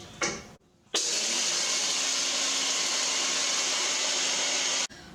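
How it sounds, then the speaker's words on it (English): A NutriBullet grinds coffee beans into powder: after a brief rattle it runs in one loud, steady whirring roar for about four seconds, then stops abruptly. "Now we are done with powdering the coffee beans using NutriBullet"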